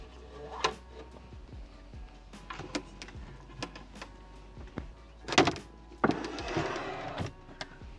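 Renault Trafic camper van door being slid and shut, a series of sharp clunks and rattles with a louder sliding rumble and thud near the end, close by amid quiet.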